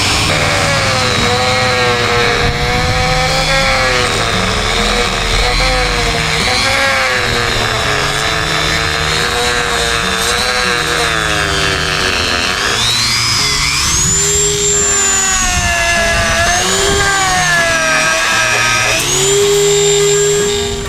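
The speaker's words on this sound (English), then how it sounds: "So I'm gonna take it a little more slower, use a Dremel, get it smooth" Dremel rotary tool grinding and sanding the core of a sailboat hull to smooth a hole, a loud continuous high whine that shifts in pitch as pressure changes, close and steady throughout.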